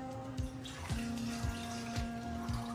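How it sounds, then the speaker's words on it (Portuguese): A cup of water pours into a pot for cooking, a steady splashing stream that carries light rhythmic clinks and a sustained tonal ring from the vessel. "eu coloco uma xícara dessa de água, não tem medida, eu faço no olho"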